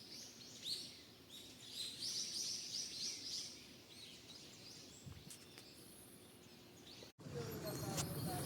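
Many birds sing and chirp around empty, abandoned houses in Japan, with rapid twittering calls in the distance over outdoor ambience, interrupted briefly by a handling bump and a short gap.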